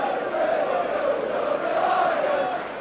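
A large crowd at Headingley for a Leeds v Widnes rugby league match roars in a sustained, swelling wash of cheering and chanting, with a commentator's voice over it.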